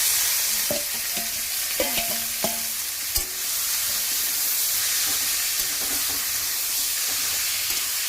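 Marinated meat fries in oil with whole garam masala, dried red chillies and bay leaves, a steady loud sizzle and hiss with a few scraping stirs of a spoon against the pan.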